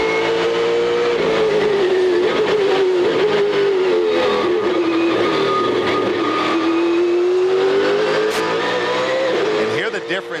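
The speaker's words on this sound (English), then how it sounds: "hear the difference in how he feeds the throttle in compared to when we were on board with the rookies" A Trans Am race car at the Long Beach Grand Prix, its engine holding a loud, steady roar that dips and rises smoothly as the throttle is fed, with a commentator talking over it.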